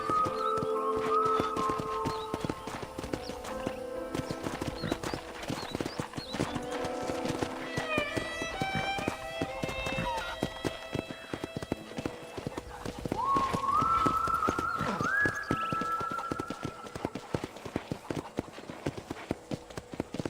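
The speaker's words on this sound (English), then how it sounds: "let's see if you can still ride a horse." Rhythmic clip-clop hoofbeats of a ridden horse in the Red Dead Redemption video game, steady and close, with occasional whinnies, game music tones and talking over the top.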